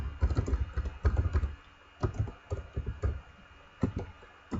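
Typing on a computer keyboard, close and clear, in short clustered bursts of clicking keystrokes separated by brief pauses, with no other sound.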